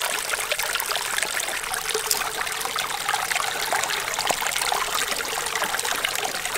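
Hot water pours steadily into cups for tea on a camping trip near Douglas Hot Springs in the Northern Territory, a continuous close trickling stream with no talk.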